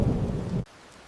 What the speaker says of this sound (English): Outside, the storm kept growing stronger.